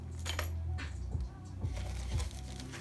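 Metal Allen keys and mounting hardware for a Sundown SFB 8000.1D amplifier clink and jingle in a few quick, close rattling bursts, with no talking.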